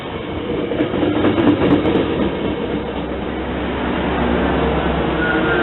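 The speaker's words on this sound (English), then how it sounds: "Metrolink Hyundai Rotem car 675 rolls into the Pedley station to pick up morning commuters" A Metrolink Hyundai Rotem commuter cab car rolls into Pedley station with an F59PHI locomotive pushing at the rear, giving a loud, steady rumble with wheel clatter and rail noise, and no voices.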